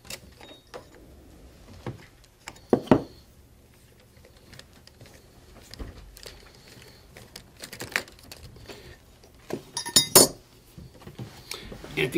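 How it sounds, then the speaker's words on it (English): An MP4 spring coupling being undone by hand in a workshop: scattered light metallic clinks and knocks, sparse and close, with quiet gaps between and a brief cluster of sharper taps near the end. "So we'll hold it in place with our left hand and undo the coupling."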